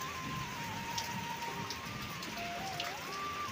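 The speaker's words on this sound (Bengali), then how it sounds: "এখনও বৃষ্টি হচ্ছে," Light rain patters steadily outside a small home, soft and distant, with a faint tonal hum drifting underneath and no voices.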